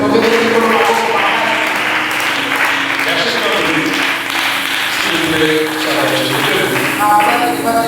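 A church congregation at a Wednesday service applauds and cheers, steady loud clapping filling the hall alongside raised voices and singing-like tones throughout.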